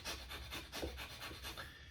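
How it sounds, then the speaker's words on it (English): Forceful, steady breathing out from the diaphragm during a breathing exercise, a run of rhythmic rasping breaths close to the listener with no talk over them. "so I'm focused on the breathing out and the diaphragm here"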